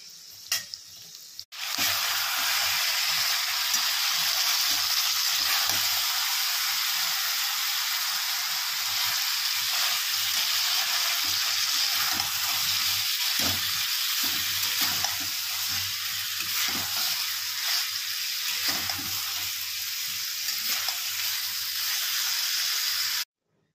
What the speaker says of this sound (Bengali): আলুগুলো লাল লাল করে ভেজে নিচ্ছি।